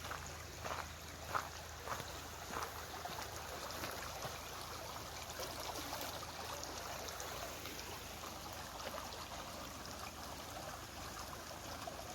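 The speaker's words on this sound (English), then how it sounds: "Such a tiny, clean water river." A small, clear river flows along a walking trail at the Arrowtown Chinese Settlement, making a steady, even rush of water that carries on unbroken and fairly close throughout.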